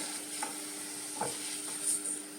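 Kerala mixture snack dough fries in hot oil with a quiet, steady sizzling hiss, broken by a few soft stirring scrapes and clicks.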